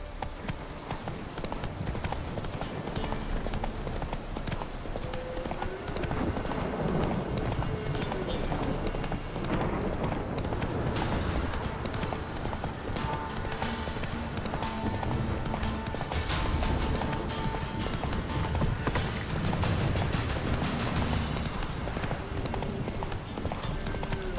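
A horse gallops in The Witcher 3 video game, with steady hoofbeats pounding close and continuously under game ambience, a faint neigh now and then, and a rider's voice briefly urging it on.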